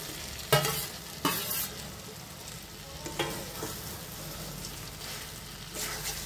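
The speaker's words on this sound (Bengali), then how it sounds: "এবার দিয়ে দেব বেগুন, মাছ আর আলু।" Eggplant, fish and potato dropped into spices frying in oil with salt, turmeric and chili powder, then stirred: a few sharp clattering additions and scrapes over a steady sizzle, close and without talk.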